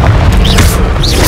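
A Confringo blast spell going off in the video game Hogwarts Legacy: a loud, booming burst with rushing noise and two short rising whistles, filling the whole moment without pause.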